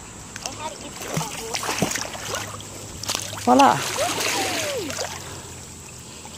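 A phone in a protective case splashes into an outdoor pool, a brief watery slosh heard among ambient water noise while people talk nearby.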